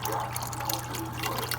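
A weak trickle of water runs through a coil, giving a steady close gurgling flow over a low constant hum, with no voices.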